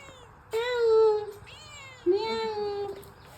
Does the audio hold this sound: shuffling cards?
no